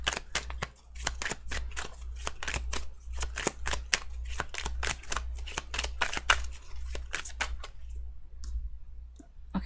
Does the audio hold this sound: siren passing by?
no